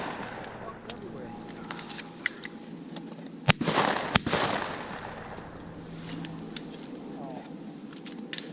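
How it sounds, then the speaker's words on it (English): Two sharp, loud firearm shots crack about a second apart in an open outdoor setting, each followed by a brief echo, with scattered smaller clicks and talk around them. "Just shot my last one."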